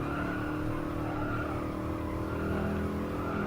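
In the GT Sport racing game, tires squeal continuously over a steady engine drone, loud and sustained throughout with no speech.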